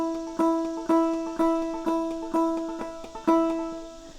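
A clawhammer banjo rings out a fast, steady pattern with a thumb whap, bright plucked strikes every half second or so, each letting the strings ring before the next. The playing is close and alone.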